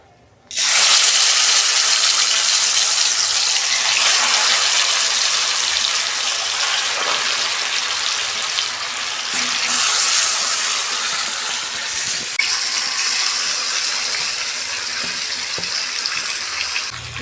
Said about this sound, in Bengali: এই যে মাংস মাখানোর গামলাটা ধুয়ে আমি জল দিয়ে দিচ্ছি।